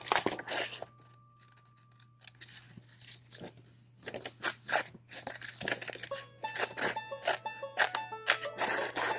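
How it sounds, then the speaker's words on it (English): Scissors cut through paper in a run of close, crisp snips and crunches, some in quick rhythmic bursts, along with faint rustling of the paper being turned. "Turn the paper around and start cutting down the stem."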